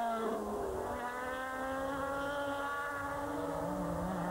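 Ferrari 360 GT race car in an FIA GT Championship race at Enna Pergusa, a steady high-pitched engine whine holding through a gear change, fairly faint and distant with no talk over it.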